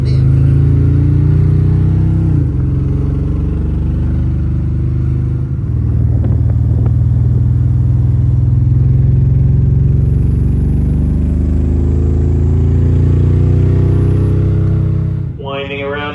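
A drag race car engine rumbles steadily and loudly during a slow parade lap, with a deep, even idle-like drone held close for the whole stretch and a slight surge near the end.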